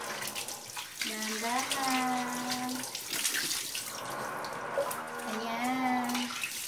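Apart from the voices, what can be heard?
shower water running during a bath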